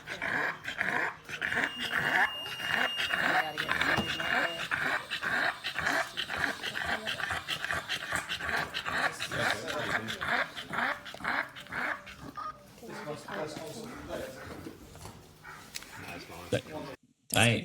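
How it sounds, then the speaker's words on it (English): A brachycephalic (flat-faced) dog in an emergency pants rapidly and whines anxiously close by, with occasional growly vocal sounds throughout. "You've got panting, then you've got like an anxious dog who's panting"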